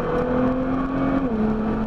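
A car engine hums steadily during a driving lesson, its tone holding and then dropping slightly as the driver gently accelerates, heard close and continuous from inside the cabin.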